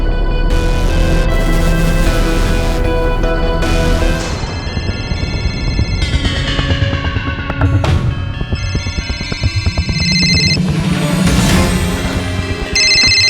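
A loud melodic phone ringtone plays continuously for several seconds, with layered electronic tones and no voices.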